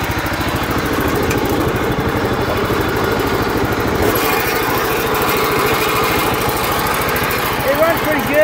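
A 1968 Sears Custom 7 lawn tractor engine runs steadily with a rough, pulsing putter through an aftermarket motorcycle exhaust, loud and close, its tone shifting briefly partway through.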